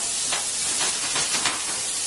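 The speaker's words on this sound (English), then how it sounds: "So she's bringing that to a nice little sizzle" Sauce for carbonara calabrese sizzles steadily in a pan, a close, even hiss with faint crackles throughout and no talk.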